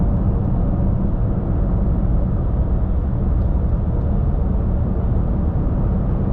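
A Fisker Karma accelerating in sport mode gives a steady, loud low rumble of road and drivetrain noise, constant throughout with no voices.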